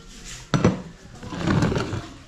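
A cooking pot being handled in a home kitchen, metal knocking and scraping with one sharp clank followed by a longer stretch of rattling contact, close and fairly loud.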